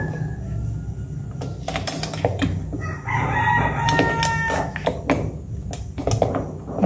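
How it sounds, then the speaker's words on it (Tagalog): Roosters crow and chickens cluck on a cold, overcast morning, several loud crows rising over a bed of clucking and rustling, close by and without talk. "Nagigising ng mga manok."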